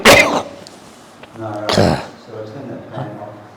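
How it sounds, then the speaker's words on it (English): Two harsh, close coughs, each followed by a throat-clearing rasp and some voiced sounds, loud and near. "I'm not sure if it's dust in the air or it's just suddenly I've started coughing"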